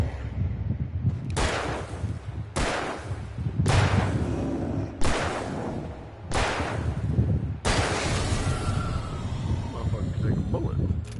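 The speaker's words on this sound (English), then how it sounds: "Here, take the gun. And now shoot him." Gunshots in the video game Alan Wake, five or six sharp loud reports spaced about a second apart, each followed by a ringing tail, with talking underneath.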